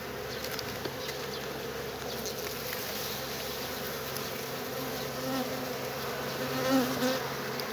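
Honeybees hum in a dense, continuous drone around an open hive during an inspection on an overcast day, the swarm close and steady throughout with no voices.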